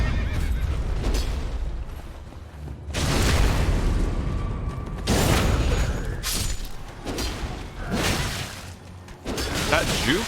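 A horse in the video game Elden Ring neighs and whinnies in several loud bursts over in-game ambience and thumps. A player can be heard talking over the sounds.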